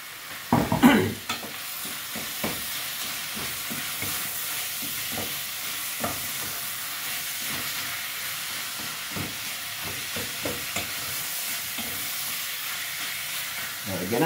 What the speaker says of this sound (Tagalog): Kailangan natin pagmantikain natin ang ating karne na giniling.